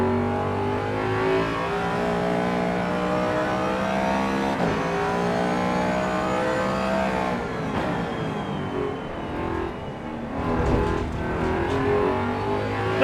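A racing car's engine roars and revs steadily in the Evo racing video game, a dense continuous drone that shifts pitch through gear changes, with brief scraping bursts near the end and no voices.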